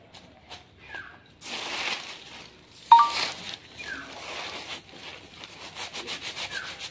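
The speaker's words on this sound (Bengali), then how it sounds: "পাতাগুলো ঘষে নেব, প্রত্যেকগুলো পাতা ঘষে নেব।" Water-dampened bidi leaves are rubbed by hand one at a time, making soft, uneven scraping and rustling strokes that come in intermittent bursts up close, with no voices.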